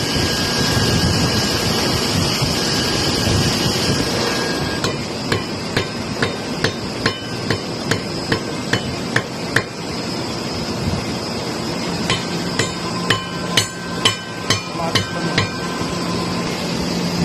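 A new bearing is hammered onto a metering roller with a series of sharp metallic strikes in a steady rhythm, then a quicker run of taps after a pause, over a loud continuous background hum.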